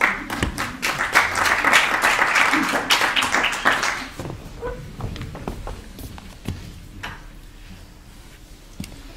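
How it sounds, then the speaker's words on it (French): A theatre audience bursts into loud, close applause that thins out after about four seconds, leaving scattered claps, footsteps and light stage noises. "Un tonnerre d'applaudissements, s'il vous plaît"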